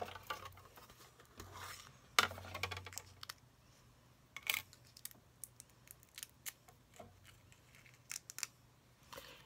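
Scissors snipping through glitter paper for a handmade card, a series of short close crisp cuts at irregular intervals, quiet and alone with no talking.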